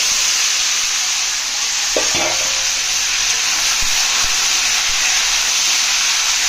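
Jujubes frying in a hot pan of oil for pickle-making give a loud, steady, close sizzle and hiss throughout, with a couple of brief clatters as the fruit goes in.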